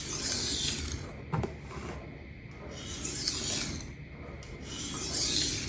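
Kitchen knife of soft steel sharpened freehand on Atoma diamond stones: repeated rasping strokes sweep along the blade in a steady back-and-forth rhythm, close and fairly loud, with one sharp tick partway through.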